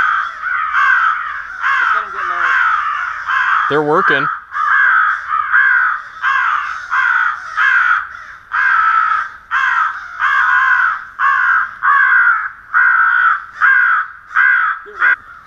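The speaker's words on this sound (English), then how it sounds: "I've never seen so many crows." Many crows caw loudly and repeatedly during a crow hunt, harsh calls coming in a dense, rhythmic series that overlap one another, with a brief spoken voice near the start.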